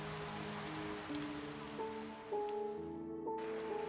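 Steady rain falls at night, a soft continuous patter with faint tonal hums running beneath it, then a sudden cut to near silence before the wash returns.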